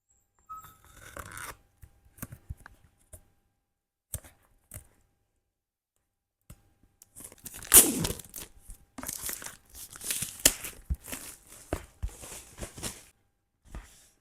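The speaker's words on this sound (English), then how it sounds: "let me open this box set up. Got my scissors." Intermittent crinkling, tearing and snipping as scissors cut open box packaging, with sporadic rustles and louder cutting bursts near the end, no voices.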